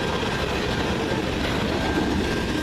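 A CN freight train rolls past at Ladysmith, a loud, close, continuous rumble of wheels and cars with steady rail noise and a faint high squeal throughout.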